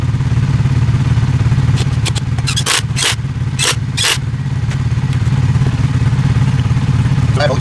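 A warmed-up Honda CBR125R motorcycle engine idling steadily and close, a constant low hum with a few sharp metallic clacks and thumps partway through and no talk.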